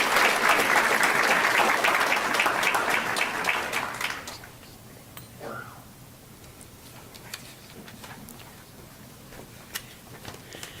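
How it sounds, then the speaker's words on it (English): A school board meeting audience gives a loud round of applause, with steady dense clapping for about four seconds that quickly dies away, leaving scattered faint claps and room murmur. "Please join me in a round of applause for Antonio Bernardo."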